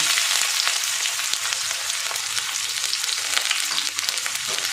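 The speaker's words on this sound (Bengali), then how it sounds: "আমি এবার পেঁয়াজ কুচি দিয়ে দেবো" Chopped onion frying in hot oil in a pan for paneer tarka makes a steady, close, bright sizzle that holds evenly for several seconds, with faint crackles and no voices.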